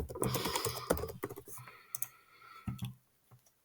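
Password being typed on a computer keyboard, a close burst of rapid key clicks that slows to a few scattered taps and fades to quiet.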